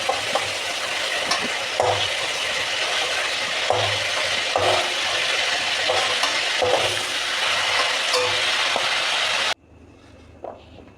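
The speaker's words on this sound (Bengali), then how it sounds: "এরকম করে একটু নেড়ে নেব, একটু ভাজা হোক" Chicken meat sizzles steadily in a hot pan while a spoon stirs it, scraping in repeated strokes, close and continuous, before the frying drops away to near quiet.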